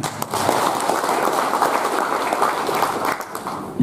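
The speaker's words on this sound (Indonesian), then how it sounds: "Semangatnya Pak Ones kita sambut dengan tepuk tangan lagi." Applause from the audience at a Partai Demokrat regional party meeting, a dense steady clapping that fills the whole stretch without letting up.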